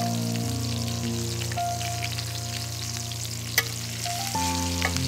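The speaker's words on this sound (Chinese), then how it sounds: "黄油融化后，把锅倾斜，用勺子把油反复多次泼在羊排上，浸润羊排。" Lamb chops frying in a pan with melted butter, garlic and fresh thyme, a steady close sizzle running throughout with a few louder spits and crackles, no talk.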